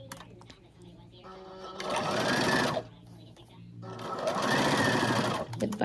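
A sewing machine stitches along the paper-backed seam of a Christmas stocking in two steady whirring bursts of rapid needle strokes, close up, with brief pauses between them.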